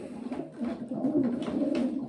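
Pigeon cooing close by in a loft, a soft low rolling coo repeated several times in quick succession, quiet and without speech.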